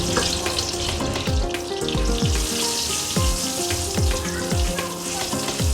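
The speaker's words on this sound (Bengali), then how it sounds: "এবার মাছ ভাজার তেলে কয়েকটা তেজপাতা দিয়ে দিই।" Bay leaves hiss and crackle in hot oil left from frying prawns, a loud, steady close-up sizzle that runs throughout with no talking.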